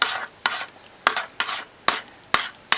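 Thick bentonite-clay soap batter being stirred in a crock pot for hot process soap, giving about seven distinct scraping strokes in a steady, uneven rhythm, close and moderately loud with no talking.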